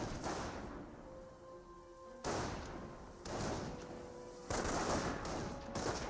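Panzer Grenadiers open fire in the World War II strategy game Company of Heroes, with several bursts of small-arms gunfire and heavy thuds of impacts rising and falling amid distant battlefield noise and faint tonal hums.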